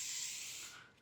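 A short burst of hair spray is sprayed onto a bubble braid, a close, bright aerosol hiss that holds steady and then tapers off within about a second.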